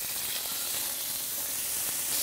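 Cupim beef searing in a preheated, oiled pan gives a steady, fairly quiet sizzle with no one speaking.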